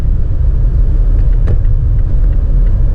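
Mazda CX-5 with the 2.2 diesel pulling at full throttle while overtaking on an open road, a steady loud low engine drone and road rumble from inside the cabin, continuous with no voices.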